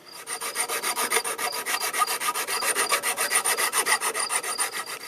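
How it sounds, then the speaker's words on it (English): A hand file rasps steadily across the freshly cut end of a bike handlebar, smoothing it flat, with even back-and-forth strokes close up and no talking. "So I'll just grab the file and file it all flat."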